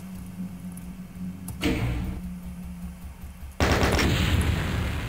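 Weapon fire in the Doom mod Eternal Damnation, level E1M1 Supply Depot: a loud, sharp blast around the middle, then a dense, roaring barrage of gunfire that continues to the end.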